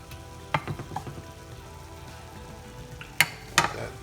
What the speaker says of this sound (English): I'm going to just throw the minced garlic in there like we had before.